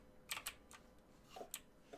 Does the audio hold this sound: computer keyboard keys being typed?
yes